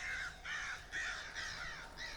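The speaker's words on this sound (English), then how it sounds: "Crows." Several crows caw in a steady series of harsh, rasping calls within the dark forest setting of the Darkwood video game, quiet and somewhat distant, with no talking.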